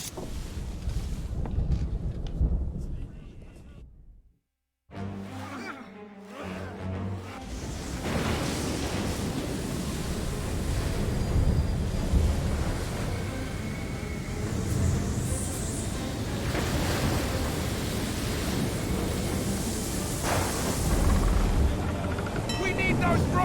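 Storm at sea in Assassin's Creed III: wind and crashing waves roar around a sailing ship, with a brief silent cut early on, and voices speak over the turbulent din.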